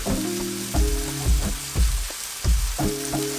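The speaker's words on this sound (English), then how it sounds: "You just fry them and they're ready." A vegetable omelette fries in a pan, with a loud, steady sizzle overlaid by a rhythmic series of low thumps and scraping strokes from a utensil, repeating roughly every second.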